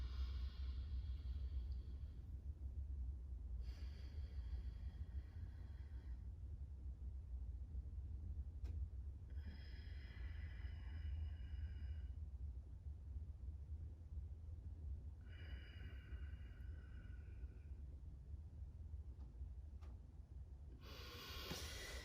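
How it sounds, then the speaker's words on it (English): Slow pranayama breathing through the nose: quiet, airy inhales and exhales come as about four separate drawn-out breaths with long still gaps between them, faint against a low background hum. "Inhale through your nose, exhale out your nose."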